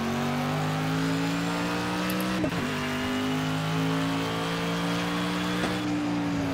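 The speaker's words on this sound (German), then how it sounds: "Also Motorensound, ich kann natürlich nicht vergleichen mit echten Autos hier, also mit dem echten SLS AMG GT3, wie sich die anhört." Mercedes SLS AMG GT3 race car in the Project Cars video game, engine revving steadily through gears with a sustained loud drone, a brief shift break midway, no talking.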